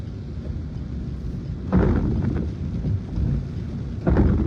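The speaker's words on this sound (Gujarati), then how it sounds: "હાલ વીજળીના જે કડાકા છે" Rain falls steadily in Vadodara as two loud thunder claps crash and rumble through the storm, the second following a couple of seconds after the first.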